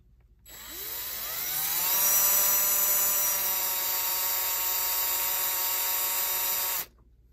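A drill bit grinds into a frozen Telechron H clock rotor, its whine rising in pitch then holding a sustained, even tone for several seconds before stopping abruptly.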